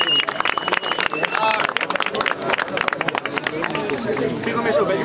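Crowd applause and claps after a round at a Brazilian rap battle, dense and continuous throughout, mixed with shouting and voices from the audience.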